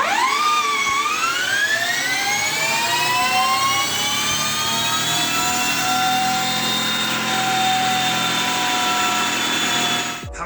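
An Energica Ego electric motorcycle on a dyno run gives off a loud, continuous rising electric whine that climbs steeply and then holds, with rolling roar beneath, cutting off at the end.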